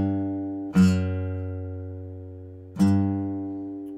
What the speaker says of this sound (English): yeah, I've got a lovely descending bass line happening.